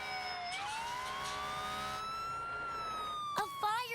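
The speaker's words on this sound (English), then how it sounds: "A fire truck." Fire truck siren wailing loud and close, its tone rising and holding steady through the clip, then warbling briefly near the end.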